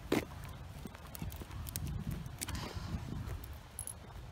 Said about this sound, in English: there's the horses that I was seeing through the fence